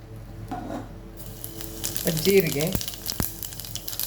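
Cumin seeds sizzling in hot oil in a pan, a soft crackling fry under a voice, with a couple of sharp utensil knocks near the end.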